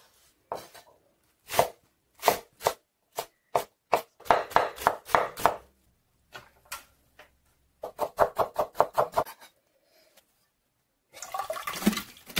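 A knife chopping green onion on a cutting board in bursts of sharp, rapid, close taps with short pauses between runs, and a brief rustle near the end, with no talking.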